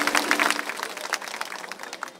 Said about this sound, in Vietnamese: Chúng ta cùng đổ một tràng pháo tay thật lớn để chào đón nhau.